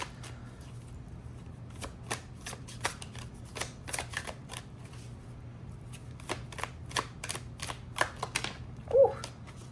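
Tarot and oracle cards are shuffled up close, a run of crisp flicks and riffles with uneven spacing and a slightly louder burst near the end.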